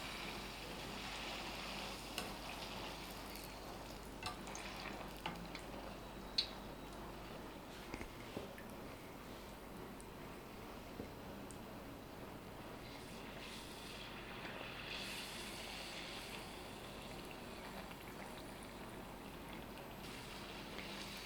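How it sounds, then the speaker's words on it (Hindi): Golgappe puris frying in hot oil, a steady low bubbling sizzle that holds evenly throughout, with a few faint ticks and light clinks of pressing the puris down. "तेल अच्छे से गर्म हो गया है। आइए अब हम इसमें गोलगप्पे डाल लेते हैं"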